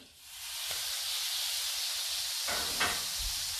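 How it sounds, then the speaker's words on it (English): Butter sizzling in a pan for a grilled cheese sandwich, a steady soft hiss with a couple of brief crackling bursts near the end. "All that sizzling you hear is the butter in the pan for this wonderful grilled cheese sandwich."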